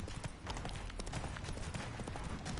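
Hooves pound in a fast, steady gallop as a horse races along in The Witcher 3 video game, loud and continuous over a dense background.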